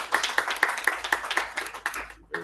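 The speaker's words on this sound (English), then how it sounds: "A round of applause in absentia." Applause at a Toastmasters club meeting: a short burst of hand clapping from a small group, with a few evenly spaced sharp claps standing out, close and fairly loud, ending abruptly.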